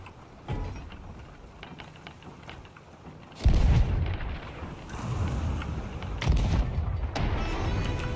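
Cannon fire from pirate ships in Sea of Thieves booms out in heavy bursts, a loud blast followed by rolling rumble and further impacts, with intermittent chatter-free gaps between.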